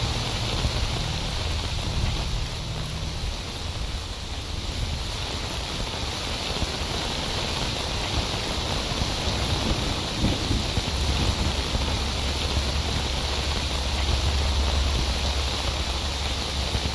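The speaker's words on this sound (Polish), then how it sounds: "Deszczowa pogoda nadal nie odpuszcza." Continuous rainfall hissing steadily, with a low rumble underneath like distant thunder, no voices, in the video game S.T.A.L.K.E.R. Anomaly.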